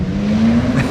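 A single car passes close on a city street, its engine whine climbing in pitch and swelling in loudness over one second.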